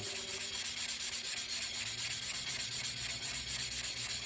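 A steel tumbler is sanded by hand at an angle, giving a close, steady rasp with fast, even rhythmic strokes and no talking.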